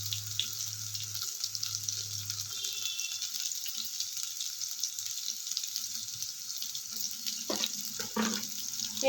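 Green chillies fry in hot oil while ginger pieces are added to the pan, making a steady, close, hissing sizzle throughout. A low hum sounds early on, and a few light clinks come near the end, with no talking.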